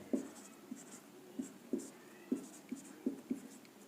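Pen scratching out an answer by hand on paper during a Hindi-language Class 8 maths lesson, a quiet run of short, regularly spaced strokes and taps, close and faint, with no talk.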